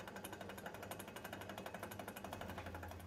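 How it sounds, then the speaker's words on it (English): A milling machine with a large horizontal cutter machines the end surfaces of a Kawasaki Z1 Super Six cylinder head part, giving a loud, steady rapid chatter with a fast regular pulse and no talking. "My milling machine makes light work of machining the end surfaces"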